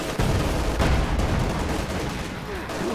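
An MG34 machine gun in a World War II strategy video game fires a dense, loud barrage of rapid shots, with a voice talking over it.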